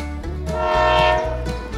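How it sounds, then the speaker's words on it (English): A small DIY toy train on a miniature railway reverses, giving a loud, steady horn-like tone with rail rumble that swells over about two seconds and then eases, with no talk. "Once again, Mario's train has to reverse."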